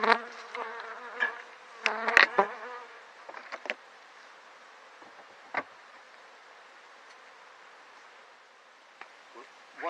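Honeybees at a Flow Hive hum in a steady close buzz, with clicks and knocks near the start and a few scattered taps later.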